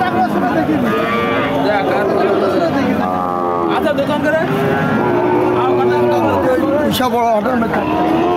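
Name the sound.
cow mooing at cattle market during bargaining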